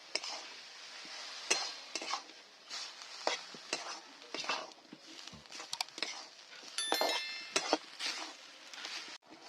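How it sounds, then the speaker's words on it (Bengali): A spoon or spatula scrapes and stirs food in a pan while cooking dal, with irregular clattering strokes, light sizzling beneath and a few sharp metallic clinks, close up and without talking. "এবার ভালো করে নেড়ে দিচ্ছি"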